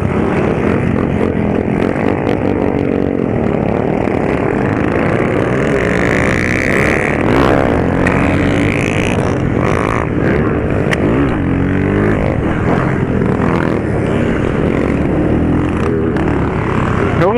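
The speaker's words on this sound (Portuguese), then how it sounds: "A moto vem muito braba." Motorcycles at a motorcycle meet in Papagaios, MG, roar and rev continuously and loudly nearby, engine tones rising and falling in overlapping waves throughout, with occasional voices buried in the noise.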